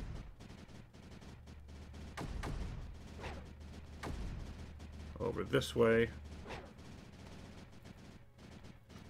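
Cannons fire in the strategy video game Creeper World 4, giving faint scattered booming shots under a quiet voice, with a brief cluster of electronic game effects partway through.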